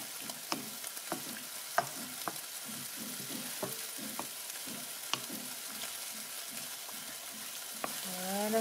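Curry chicken is stirred in a frying pan, with a soft steady sizzle under repeated spatula scrapes and clinks against the pan, quiet and close, and no talking.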